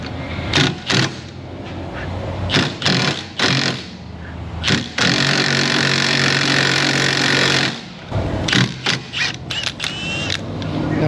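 A wheel stud on a Civic is drawn in by a powered tool against a sacrificial nut: loud, harsh hammering rattles in short bursts, then one sustained run of about three seconds, then more choppy bursts, close and dominant.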